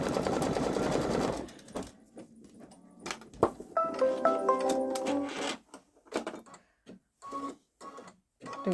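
A Babylock Solaris embroidery machine stitches a design onto a sweater, its rapid needle chatter running in steady bursts broken by short pauses, close and clear with no talking.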